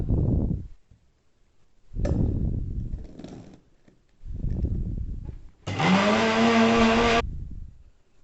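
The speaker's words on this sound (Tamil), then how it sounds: "இப்போ இந்த பொரிகடலையை நம்ம மிக்சியில் போட்டு பவுடர் பண்ண போகிறோம்." A mixer grinder powders roasted gram (pottukadalai), running in three short pulsed bursts, then one longer, higher-pitched whirring run, loud and close, with quiet gaps between.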